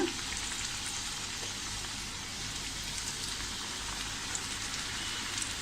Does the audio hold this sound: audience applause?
no